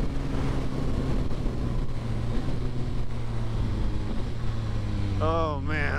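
A 2022 Yamaha XSR900 motorcycle with a quick shifter gives a steady, droning engine note, heard close and continuous throughout.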